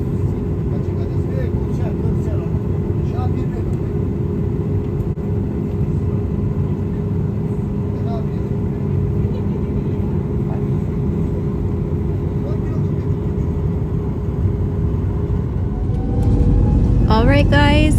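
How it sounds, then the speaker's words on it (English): An airplane comes in to land with a loud, continuous low rumble that holds steady and swells near the end. "I should be able to get a great view of this plane coming in for a landing"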